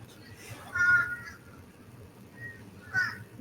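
Two loud crow caws from a sound effect ring out, separated by a couple of seconds, over a quiet low background rumble.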